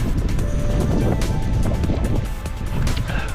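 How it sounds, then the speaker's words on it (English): Wind gusting across an open, unmarked hillside route on a hike to the Grinha stones, a continuous loud rushing roar buffeting the microphone for the whole stretch with no speech. "Wind's picking up now."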